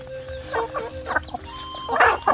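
Native farm chickens clucking nearby, with several short bursts of clucks and calls spread irregularly across a low background hum.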